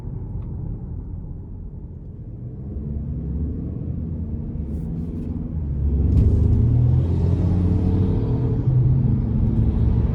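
A 2025 Lincoln Corsair Premiere with the 2.0T engine in Excite mode accelerating, heard from inside the cabin as a steady low engine rumble and road noise that swells and grows louder about halfway through.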